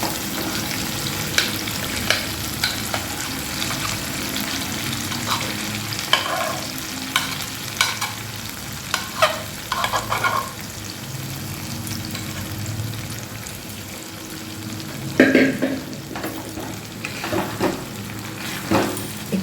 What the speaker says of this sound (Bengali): ভেজে নেব ডালটাকেও একটু কষিয়ে নিই এর সাথে আঁচটা বাড়িয়ে দিয়েছি